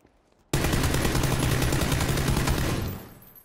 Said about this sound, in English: He's in a gunfight with Shane